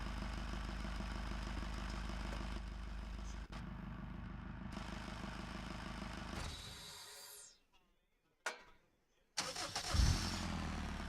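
A video game car engine runs steadily with a low hum, then cuts away to near silence before a very soft engine rumble and a brief thump return.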